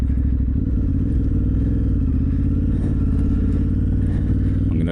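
A motorcycle rides a loose, stony green lane on the Win Green and Ox Drove byways in South Dorset. A loud, steady engine drone runs close and unbroken throughout, with faint clattering over it.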